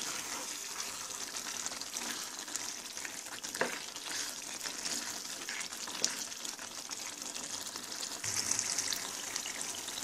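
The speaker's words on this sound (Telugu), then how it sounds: "మనం సిమ్లోనే పెట్టి ఉడికించుకోవాలి" Chukka kura chicken curry cooking on a low flame in a pan, a soft continuous sizzle and bubbling with a few sharp pops and clinks, steady and close.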